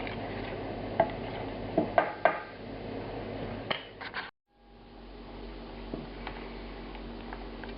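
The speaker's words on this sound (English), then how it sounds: "we're going to give this a stir" Korean BBQ sauce with Kashmiri or Korean chili powder being stirred in a pot, giving a few scattered clinks and scrapes against the metal, fairly close, with a short silent gap partway through and no talk.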